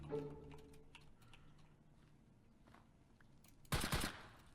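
A short, loud burst of gunshots in the video game Minecraft comes near the end, after a quiet stretch with faint background tones.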